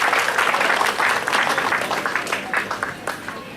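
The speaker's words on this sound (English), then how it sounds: "we should all give him a nice round of applause for organizing this with his crew" An audience at an Indian chariot festival in Chicago gives a festival organizer a round of applause, close, dense clapping that swells and then thins out over a few seconds.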